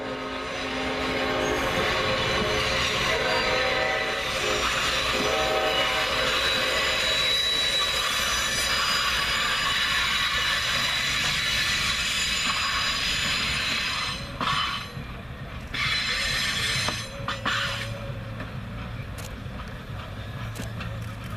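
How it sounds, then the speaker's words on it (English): Rumbling Clinchfield Santa Train passes with Nathan M5 and Leslie RS5T diesel horns sounding in long, overlapping chords, wheels grinding beneath, the noise thinning out toward the end. "competition between number 800's Nathan M5 horn and number 3632's RS5T Leslie horn continued"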